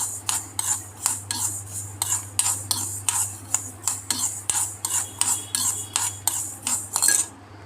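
A spoon scrapes and knocks rhythmically against a kadai as food is stirred off the heat, a steady series of close metallic strokes over a low constant hum.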